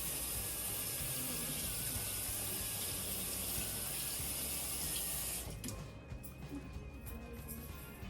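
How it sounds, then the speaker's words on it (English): Tap water running steadily while a seasoning bin is washed out in a kitchen, a continuous close hiss and splash that drops off near the end, leaving quieter trickling. "All right, so we're going to go ahead and wash this down."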